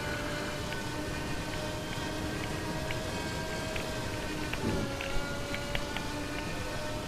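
Steady rain falls on the racetrack in the racing video game Formula Legends, a soft, even hiss that continues throughout at low volume, with a few faint tonal engine or game sounds layered beneath.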